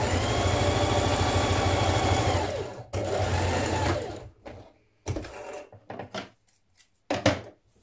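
A sewing machine stitches a seam on a 1960s vintage dress from a Simplicity 9447 pattern, a close, steady whirring run for nearly three seconds, then shorter stop-start bursts with pauses between them.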